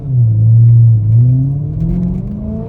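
A tuned 750-horsepower BMW E90 M3 running again after refueling and restarting, heard as a loud, deep engine drone that rises and then settles into a steady rumbling idle, with no voices.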